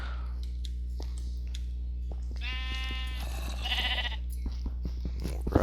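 A sheep bleats twice in a video game, with wavering nasal calls over a steady low hum, mixed with scattered soft clicks and taps and no talking.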